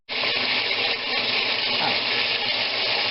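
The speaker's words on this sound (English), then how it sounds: "I don't know if you can hear this above the pan, but if you ever really listen to meat cook" Pork chops sizzle in a pan, a continuous, close crackling hiss like rain that runs steadily after a sudden start, with a small dip partway through.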